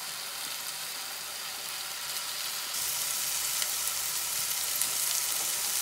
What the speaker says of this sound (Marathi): आपण यामध्ये आता चिरलेली भाजी घालत आहोत.